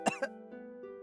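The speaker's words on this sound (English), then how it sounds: "You're coughing." Two quick, short coughs close by, followed by a soft, sustained tonal hum.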